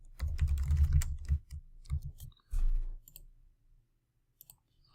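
Rapid typing on a computer keyboard, a dense burst of close key clicks for about three seconds, then a few isolated taps trailing into silence.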